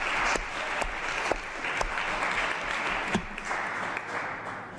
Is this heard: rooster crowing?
no